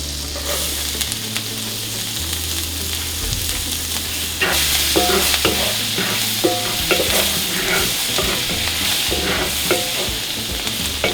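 Minced garlic sizzles in melted vegan butter in a pan, a steady close fry with a louder hiss that jumps up partway through, broken by scraping stirs and light clinks of a utensil against the pan.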